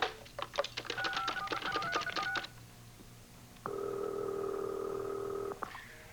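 A touch-tone telephone dialed on a 1980s television game segment, with a quick run of electronic keypad beeps followed after a pause by a sustained steady tone, loud and close.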